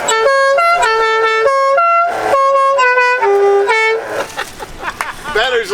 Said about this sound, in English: we got one honk on the horn